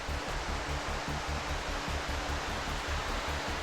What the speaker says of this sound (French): Et cette cascade sous le pont-canal